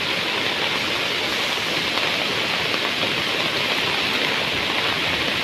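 A rising river rushes in spate during heavy monsoon rain in Sindhudurg, Konkan, producing a loud, unbroken roar of water that fills the whole stretch without pause.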